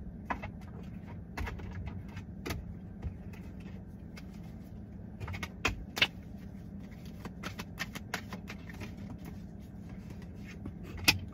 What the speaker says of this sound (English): I'm gonna cut the cards.